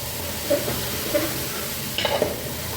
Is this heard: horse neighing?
no